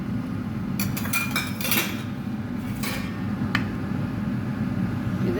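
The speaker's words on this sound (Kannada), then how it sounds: "ಕುದಿತಾ ಇದೆ ಸಾರು." Tomato saaru (rasam) boiling in a pot: a steady, close low bubbling rumble runs throughout, broken by scattered light metallic clinks of a utensil against the pot, with no voices.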